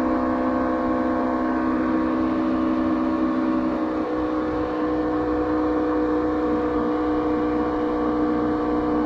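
An Evinrude 90 Ficht two-stroke outboard drives a boat at steady speed, a continuous buzzing drone with a whining tone and a slight pitch shift midway, loud and close with no talk.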